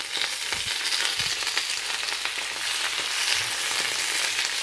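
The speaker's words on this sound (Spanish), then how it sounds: "vamos a empezar a sofreírlo" Spinach sizzling and frying in a pan, a steady broadband crackle with occasional stirring clatters, close and fairly loud throughout.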